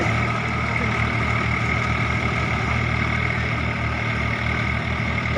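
A tractor engine runs in a field, a loud, steady low rumble with an even chugging pulse that holds without a break, close by.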